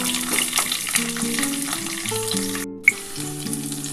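Bay leaves with green and dried chillies crackling in hot oil for masoor dal, a close, steady sizzle under a sustained musical tone, with a brief gap and a sharp click near the end.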